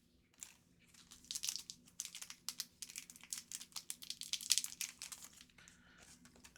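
Crinkling of a plastic trading card pack wrapper being cut open and handled, a quiet series of crackles and rustles close by, with no talking.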